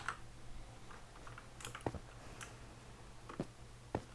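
Computer keyboard typing with a few isolated key clicks, sparse and fairly close, over a low steady hum during a Minecraft session, with no talk.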